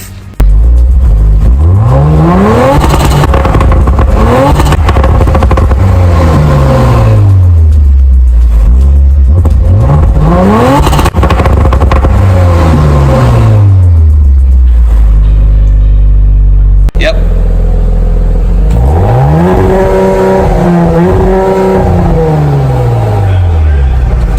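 An Audi RS5's engine revs repeatedly through its quad oval exhaust, pitch rising and falling in several loud swells, then settles into a rough, throbbing idle.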